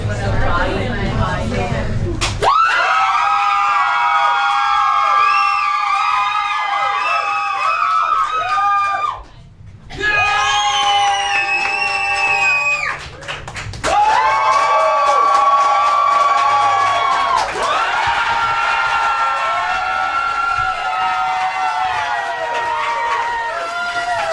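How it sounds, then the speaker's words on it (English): Studio audience at a comedy game show cheering and whooping for a contestant in an immunity challenge, loud and continuous with high shrieks and shouts, a short dip near the middle, then resuming. "Only cheer for the person you want to win."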